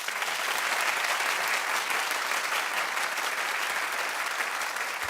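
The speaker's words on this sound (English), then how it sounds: "Clap if you do." A television studio audience breaks into dense, sustained applause, a loud, even wash of many hands clapping at once that holds steady without pause.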